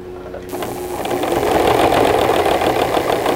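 Sewing machine stitching through two layers of upholstery material with a strong needle, a loud, close, rapid mechanical chatter that starts abruptly and runs steadily without talk.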